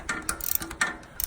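A torque wrench ratchets and clicks on a 1987 Jeep YJ engine during valve seal work, giving a quick run of faint, close mechanical clicks and ratcheting ticks in irregular bursts, with no voices.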